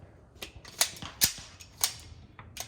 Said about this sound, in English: then I'll shoot another 5 pretty quickly